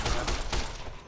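Rapid gunfire in the Fallout video game, a short burst of several quick shots in fast succession, moderately loud and close, no voice over it.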